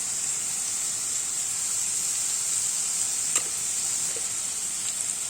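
Vegetables with artichokes sizzle steadily as they stir-fry in a pan, a constant bright hiss with a couple of faint clinks of stirring partway through.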